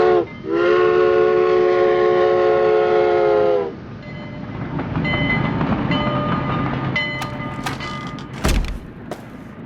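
A train on rails, as a radio drama sound effect: a loud, sustained steam whistle blast for about three seconds, then rolling rail clatter and rumble with high metallic squeals and a sharp clank near the end.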